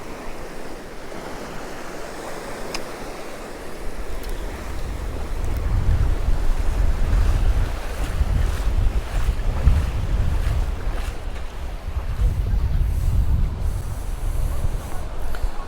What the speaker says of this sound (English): Okay, so wind has got pretty crazy.